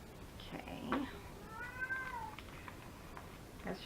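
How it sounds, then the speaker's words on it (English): A house cat meows once, quietly and close by, in a room where someone is crafting. Faint rustling sits underneath the meow. "That's just my cat."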